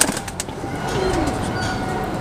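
A Rajasthani pigeon gives a soft, brief coo close by, low and murmuring over a steady background hum, with a few faint rustles.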